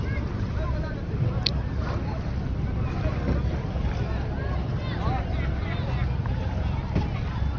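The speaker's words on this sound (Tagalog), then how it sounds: "Tatlong bangka pa nga po yung padating." Fishing boats loaded with tuna come in toward shore, a low continuous engine rumble mixed with wind buffeting the microphone and distant voices throughout.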